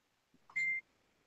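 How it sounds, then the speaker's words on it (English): A short electronic notification beep for an incoming message sounds once, a single clear tone about a quarter second long, preceded by faint soft clicks in an otherwise quiet room. "I have been beeped."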